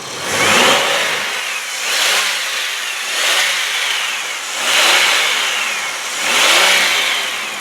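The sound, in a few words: car engine revving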